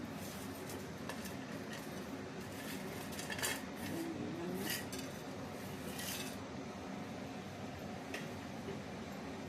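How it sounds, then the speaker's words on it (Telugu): Whole biryani spices such as cardamom and bay leaf dry-roast in a pan, with faint rattling, scraping and clinking as they are stirred over a low steady background hiss, quiet and close without speech. "దీన్ని వేయించుకుని ఇలా తిప్పుతూ ఉండాలి"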